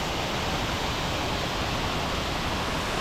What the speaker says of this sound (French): Ah donc là on a la petite cascade d'Ars.